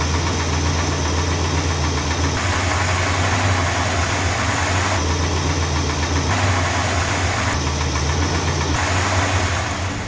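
A Mopar car engine with a newly installed cam idles steadily and close by, with a continuous rumble and a faint knocking rhythm throughout; no one speaks.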